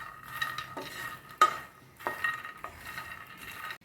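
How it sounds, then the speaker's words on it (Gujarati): Dry fruits and makhana roast in ghee while a spoon stirs them, making several close scraping and clinking strokes over a soft, light sizzle. "આપણે ઘીમાં રોસ્ટ થાય એટલું જ ફરીથી એક વખત 2 મિનિટ માટે રોસ્ટ કરી લઈશું."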